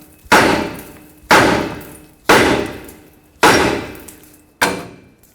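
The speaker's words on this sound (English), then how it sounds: "Now take a hammer and tap the knuckle right here so the tie rod stud can break free." A hammer tapping the steering knuckle of a 2009–2014 Ford F-150 to free the tie rod stud: five heavy metallic blows about a second apart, each ringing briefly and fading, loud and close with no talk.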